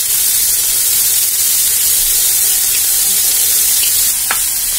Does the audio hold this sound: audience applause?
no